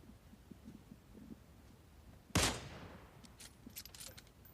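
A single sharp gunshot cracks out mid-clip in a battle royale game, loud and close, with a decaying tail, followed by faint scattered distant shots over low background noise.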